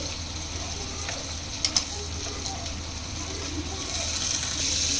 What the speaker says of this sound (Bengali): আমি পেঁয়াজের সাথে মুরগির মাংসটা একটু ভেজে নিব আগে।